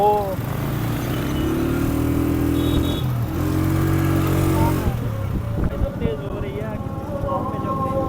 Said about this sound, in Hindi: सिटी के रश में और फिर बारिश में बाइक चलाने का अपना मजा है